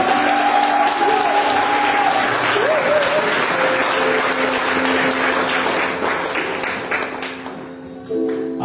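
A church congregation claps and cheers in sustained, dense applause at worship, loud and close at first, then thinning and fading slightly toward the end.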